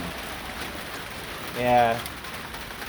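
Steady rain falling outdoors hisses as a continuous wash of noise throughout, with a brief spoken word rising over it midway.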